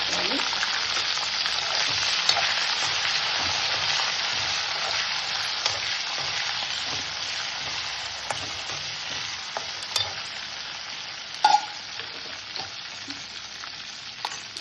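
Chana dal and chillies frying in oil for ridge gourd chutney, a continuous close hiss of sizzling with occasional pops and a brief louder spatter toward the end.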